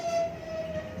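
Train with a sustained horn sounding steadily through a short burst of rail rumble, fairly loud and close.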